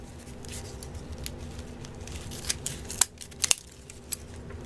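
Scissors trimming paper at close range, several sharp crisp snips coming in a loose cluster over quiet room tone, with no talking.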